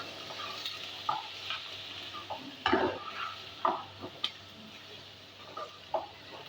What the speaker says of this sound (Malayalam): ഇതെല്ലാം ഒന്ന് നമുക്ക് നല്ലോണം ഒന്ന് വഴറ്റിയെടുക്കാം